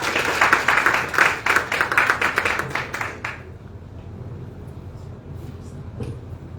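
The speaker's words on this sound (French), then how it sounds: "Sous vos applaudissements," An audience applauds at an independence celebration in Dakar, a dense stretch of clapping lasting about three seconds before it dies away. A quieter low rumble of room noise follows, with a faint, brief sound near the end.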